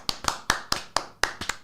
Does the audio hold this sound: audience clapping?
yes